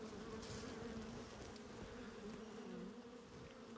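Honeybees buzz around a heavy, honey-laden hive frame in a continuous, soft, distant hum.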